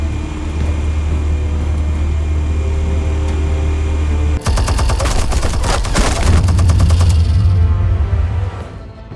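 Gunfire in the Batman The Telltale Series video game: a sudden dense burst of rapid shots breaks over a heavy low rumble and continues for about three seconds before the rumble returns and fades.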